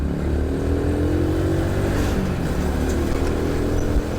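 A Honda Supra X 100 motorcycle pulls along an open road, its engine note climbing in pitch as it accelerates, heard loud and close from the rider's position with steady wind noise.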